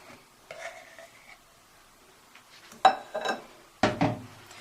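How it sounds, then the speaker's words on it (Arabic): Cocoa is stirred into part of a tiger cake batter in a bowl, a few soft scraping strokes and light utensil knocks against the bowl, quiet and close with short pauses. "وهنقلبهم كده مع بعض"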